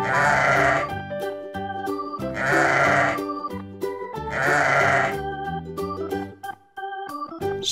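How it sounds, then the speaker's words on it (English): Three loud sheep bleats at regular intervals, set over a cheerful children's farm-animal song that keeps playing between them. "Sheep."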